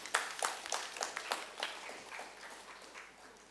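Scattered applause from an audience at a literature festival's inaugural session, a few sharp claps at first thinning into softer, sparse clapping that fades out over a few seconds.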